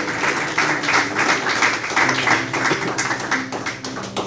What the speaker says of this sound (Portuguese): Louve ao Senhor com palmas